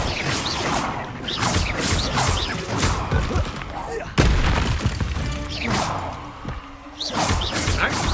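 Repeated Confringo fire spell blasts in the Hogwarts Legacy video game, a series of loud booming bursts with whooshes and crashes spread across the clip, with game speech mixed in.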